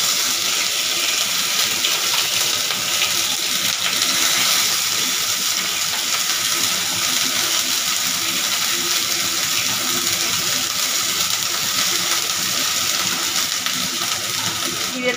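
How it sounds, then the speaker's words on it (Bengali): Cumin and ginger paste frying in hot oil for an aloo dum, producing a dense, even sizzle that holds loud and unbroken throughout with no speech. "জিরেটা আমার ভাজা হয়ে এসেছে"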